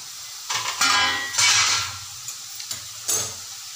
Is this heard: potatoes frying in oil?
yes